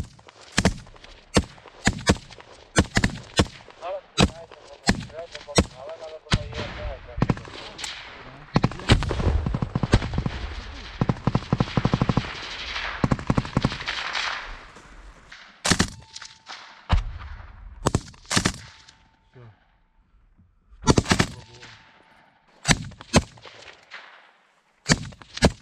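Repeated gunshots during an assault near Bakhmut crack out in bursts and single shots, some rapid strings of automatic fire, loud and close, with quiet gaps between volleys and soldiers shouting in Ukrainian.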